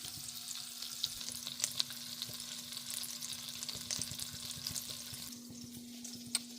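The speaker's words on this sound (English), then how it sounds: "Knob of butter here. Right there, let that melt down." Butter melting and sizzling in a pan on the stove, a steady close crackle and hiss lasting throughout with occasional sharper pops and a faint hum underneath.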